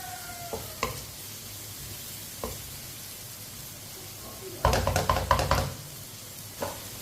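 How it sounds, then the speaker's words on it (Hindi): Soft sizzling of spices and tomatoes frying for daal karela, with scattered spoon scrapes and knocks against a pan, then a brisk burst of rapid stirring clatter. "मसालों को ऐसे ही चम्मच चलाते हुए पकाएं, मसालों को जलने नहीं देना।"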